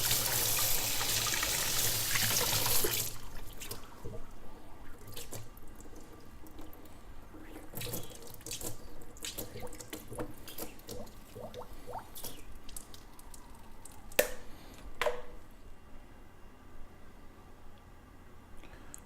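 Water rinses through a ball lock keg line and tap gun, starting as a brief strong gush, then turning into quiet trickles, drips and small clatters.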